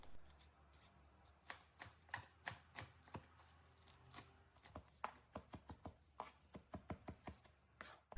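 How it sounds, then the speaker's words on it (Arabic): Green onion being chopped for a quinoa tabbouleh, with a knife striking a cutting board in a steady series of sharp, close taps over faint room hum and no talk. "وحبدأ أفرم البصل الأخضر"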